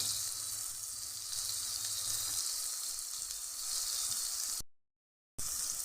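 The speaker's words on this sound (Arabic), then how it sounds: "واحط مكعبين الزبده عشان هشوح فيهم معلقتين الدقيق." Butter cubes sizzle in a pan over moderate heat before flour is fried in them, giving a steady, close crackling hiss that runs alone with no talk, then cuts out briefly near the end before resuming.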